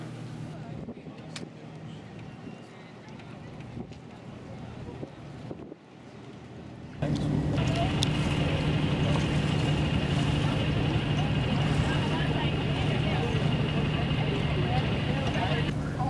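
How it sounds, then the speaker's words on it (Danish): Small boat motoring out to sea off Zakynthos, its engine droning steadily alongside wind buffeting the microphone, rising to a louder constant hum partway through as the boat gets under way. "Vi går ombord i en lille båd og sejler ud"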